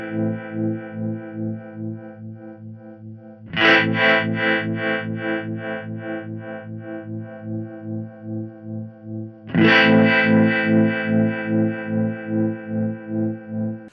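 A guitar played through a Keeley Verb O' Trem pedal in tremolo mode with the morph control engaged: two strummed chords ring out with a pulsing, wavering throb, loud and alone.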